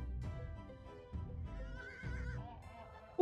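A horse in the video game Animal Revolt Battle Simulator lets out a drawn-out, wavering whinny, moderately loud and alone, with low rumbling game noise beneath.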